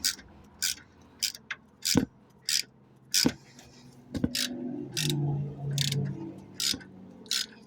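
A wrench tightening the crankshaft pulley bolt on a 2005 Volvo XC90, heard as a run of close, crisp clicks in an uneven rhythm, with a low mechanical whir in the middle.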